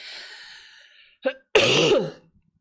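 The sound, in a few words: coughing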